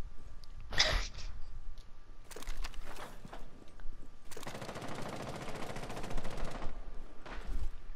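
Gunfire in Rainbow Six Siege: a short sharp shot, then two brief bursts and a long rapid automatic volley of close, loud rounds, with a final quick burst near the end and no talk.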